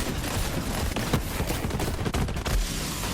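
Shotgun blasts in the video game Borderlands 3, fired during a heist at the Handsome Jackpot, with dense, loud bursts of gunfire crowding several seconds alongside game effects.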